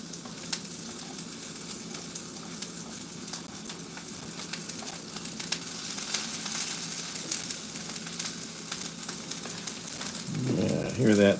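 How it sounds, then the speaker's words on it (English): Food frying in a pan makes a steady, moderate sizzle with scattered crackles, and it swells louder toward the end, where a voice briefly breaks in. "hear that sizzle"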